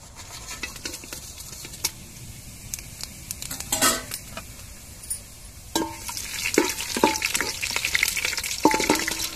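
Cardamom, fennel and bay leaf fry in a pot of hot oil, a steady sizzle with scattered clinks and stirring scrapes that grow busier and louder toward the end.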